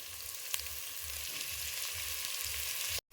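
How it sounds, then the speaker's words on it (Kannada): Onions and green chillies frying in a pan, a constant bright sizzle close by with low rhythmic scraping of stirring underneath, cutting off abruptly at the end. "ಈಗ ಉಳ್ಳಾಗಡ್ಡಿ ಮೆಣಸಿನ್ಕಾಯಿ ಎರಡು ಫ್ರೈ ಅಲ್ಲಿ ಚಲೋ ಆಗ್ತದೆ"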